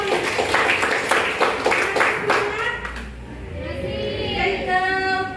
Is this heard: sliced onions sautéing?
no